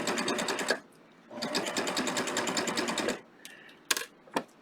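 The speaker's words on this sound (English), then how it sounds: "And what I'm going to do is stitch." A sewing machine fitted with a beading foot stitches in two sustained, even bursts of rapid mechanical clatter, separated by a short pause, followed by a few isolated clicks and taps.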